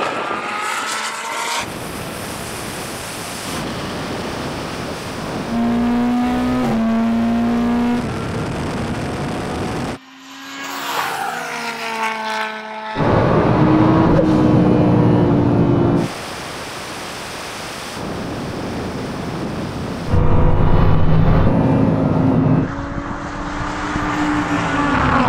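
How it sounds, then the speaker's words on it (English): A Bugatti Chiron Super Sport and a Lamborghini Huracan roar through a drag race in several loud, full-throttle runs, engines surging and shifting, with sharp cuts between passes and brief quieter gaps. "That was the weirdest drag race ever."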